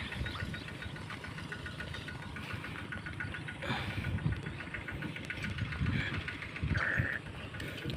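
An engine-driven pump draws water into a rice field, its motor chugging at a steady mid-pitched beat without pause, with a few brief outdoor noises rising over the drone.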